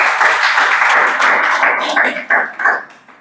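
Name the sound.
audience clapping hands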